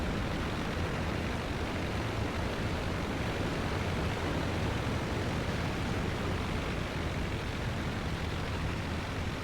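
A steady, dense roar of a World War I biplane's propeller engine in the video game Rise of Flight drones without a break, broad and noisy like rushing air, unchanging throughout.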